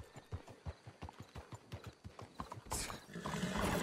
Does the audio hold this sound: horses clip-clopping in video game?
yes